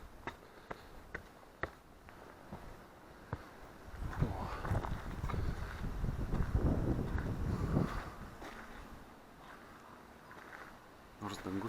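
Gusty wind on top of Pypliai hillfort above the Nemunas river, rising into a loud buffeting roar in the middle and then easing, with scattered clicks and a voice talking.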